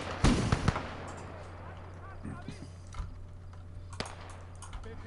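Scattered infantry rifle shots crack in the World War II Eastern Front strategy game Call to Arms: Gates of Hell. A few sharp, separate reports come at irregular intervals over a low battlefield rumble, some near and some more distant.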